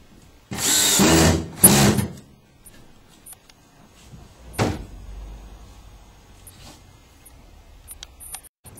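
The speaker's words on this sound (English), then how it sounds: "With the 2 screws provided, we'll screw the bracket in place." A power drill drives two screws to fix an anti-tip bracket for a cabinet to the floor: two close, loud whirring bursts in quick succession, then a short, sharper buzz a few seconds later, with quiet handling in between.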